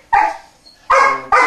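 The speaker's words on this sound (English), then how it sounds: "my dog's barking about that" A dog barks three times close by, loud sharp barks with a pause after the first and the last two coming in quick succession, set indoors in a workshop.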